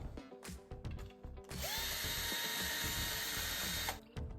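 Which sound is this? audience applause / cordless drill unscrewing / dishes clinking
cordless drill unscrewing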